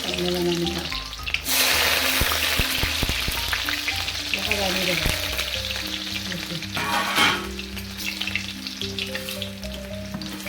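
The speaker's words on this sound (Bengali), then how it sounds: "ওই তেলে দিলাম আলু দিতে বানাচ্ছি" Potato pieces sizzle steadily in hot oil for a jute-leaf dish, a loud continuous crackle with occasional clatter, under tonal background music and one brief spoken word.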